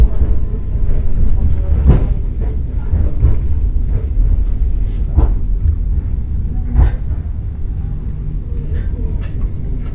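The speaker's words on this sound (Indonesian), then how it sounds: "Ini kereta api yang saya naiki sudah tiba di suatu stasiun." A Trans-Siberian passenger train rumbles steadily as it pulls into a station, with low continuous noise and occasional clanks and thumps, close and loud throughout.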